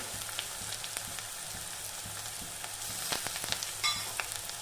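Ginger and garlic paste fries with onion in mustard oil, giving a soft, steady sizzle, fairly quiet, with scattered light stirring clicks and scrapes near the end and no speech.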